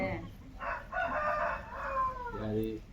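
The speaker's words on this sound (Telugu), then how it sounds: "కోడి ముసుకోంది" A sickly chicken, huddled against the cold, gives several drawn-out crowing and clucking calls, fairly faint against a quiet outdoor background.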